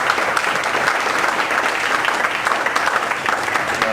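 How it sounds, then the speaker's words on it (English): Steady, dense applause from an audience after a business presentation, many people clapping together at an even, fairly loud level throughout. "let's give these guys a big round of applause"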